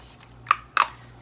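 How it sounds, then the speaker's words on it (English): Two quick, close spritzes of makeup setting spray onto a face, short hissing bursts a fraction of a second apart against near silence. "spray with setting spray"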